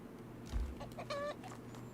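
A chicken in the video game Runescape Dragonwilds lets out a few short clucks near the middle, faint against steady game ambience and low background music.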